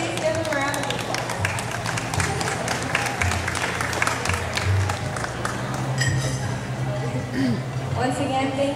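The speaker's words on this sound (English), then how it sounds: "Everyone, please give them a round of applause." A party crowd gives dance performers sustained applause, with dense clapping and cheering close by and voices talking and shouting over it throughout.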